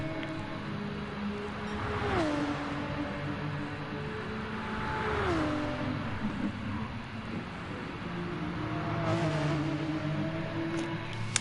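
Porsche GT race car engines in a sim racing endurance broadcast at Bathurst, revving high with repeated downshifts and gear changes through corners, a steady loud drone without talk.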